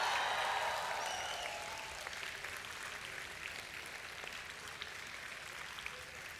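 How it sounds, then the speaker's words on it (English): A convocation audience applauds its faculty members in soft, continuous applause heard from a distance, steady and diffuse for several seconds with no talk over it. "You should also give a clap for all your faculty members who are here."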